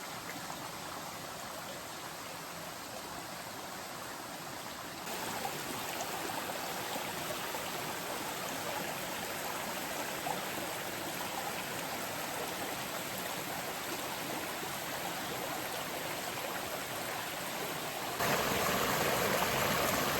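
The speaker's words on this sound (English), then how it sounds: "It's formed its own little creek and coming down this old road bed" Rainwater runs as a small creek down an old woodland road bed, a steady broadband rush and trickle that stays close and continuous, growing slightly louder partway through and again near the end, with no voices.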